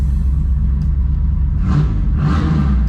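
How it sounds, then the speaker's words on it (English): A 1983 Camaro Z/28 with a roller-cam 355 V8 idling beside a brick building, a loud, steady low rumble with a couple of brief throttle blips. "So that's what 355 rollarized sounds like."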